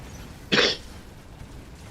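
A single short, sharp cough bursts out close to the microphone, loud against a quiet background, then silence follows.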